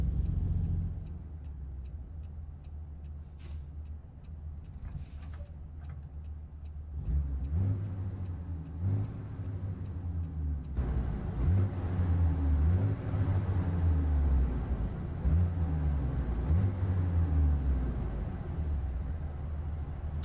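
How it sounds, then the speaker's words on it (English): A Peterbilt 389 truck engine in American Truck Simulator idles low and steady, then rises into loud, rhythmic revving swells that repeat through the second half, heard alone and close. "That sounds, to me and my ears, that sounds completely different from what the way this engine sounded for the longest time."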